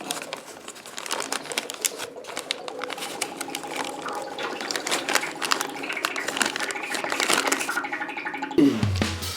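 Water drains from a radiator valve into a plastic bag held beneath it, a steady splashing trickle with fine dripping textures that runs continuously and ends with a short rustle or clunk.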